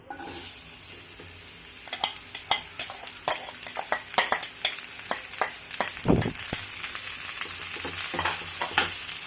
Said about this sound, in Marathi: आपण याच्यामध्ये टाकणार आहोत कैरीचे काप।